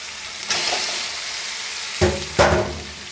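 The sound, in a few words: sautéing elephant foot yam with fish in a pan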